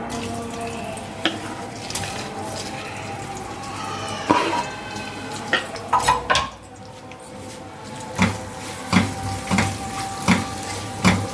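Sliced onion fries in a pot for matar pulao: a continuous low sizzle with repeated clanks and scrapes of a spoon against the pot, close and moderately loud, with no talking.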